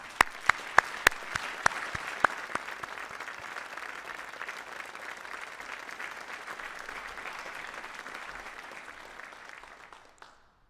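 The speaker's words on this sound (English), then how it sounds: "So let's give them a round of applause." A Medal of Honor Hall of Heroes induction ceremony crowd breaks into applause, a few sharp early claps swelling into sustained, even clapping that fades out near the end.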